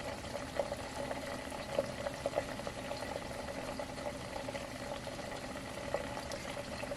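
Butter simmers in a pot as it cooks down into ghee, a soft, steady bubbling with scattered small pops and crackles, quiet and close, with no voices.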